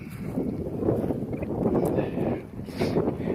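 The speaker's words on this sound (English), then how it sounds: "Very windy today." Steady wind roars and buffets the microphone in Badlands National Park, a broad low rumble with gusts rising and falling throughout.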